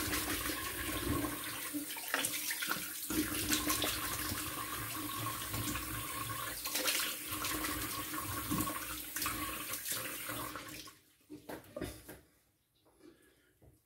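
Water runs and splashes steadily from a tap as a face is rinsed with cold water after a razor-blade shave, continuing for about eleven seconds before cutting off into near silence with a few last drips.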